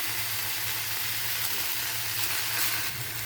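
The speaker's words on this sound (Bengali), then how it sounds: "এবার শুকনো লঙ্কা, একটু মেথি ফোড়ন দিয়ে আলুটা ভেজে নেব।" Potato and taro root frying in oil with dry red chilli and fenugreek seeds, a steady, moderate sizzle running evenly throughout with no voices.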